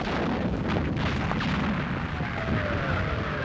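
Continuous rumbling of an artillery barrage ahead of advancing infantry at El Alamein, dense overlapping booms and blasts forming a loud, unbroken roar.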